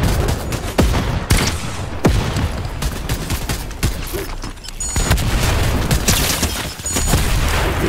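Rapid video game gunfire fills the mix, bursts and single shots cracking close and loud over a dense battle backdrop, with sharp transients near the start and steady firing throughout.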